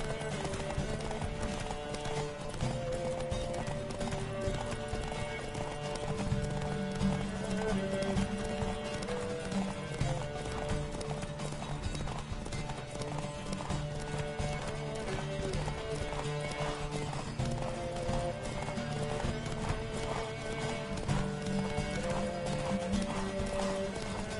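A horse gallops hard in a race in The Witcher 3, its hooves pounding in a fast, continuous clip-clop over a dense bed of game music, with occasional neighs.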